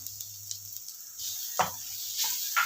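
Cumin powder sizzles steadily in hot oil, a soft continuous hiss broken by a few louder scraping stirs.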